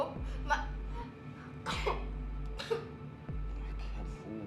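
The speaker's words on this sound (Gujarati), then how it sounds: "હા, થોડી ઉધરસ થઈ ગઈ છે" A person coughs three times at even intervals, each a short harsh burst over a steady low electrical hum.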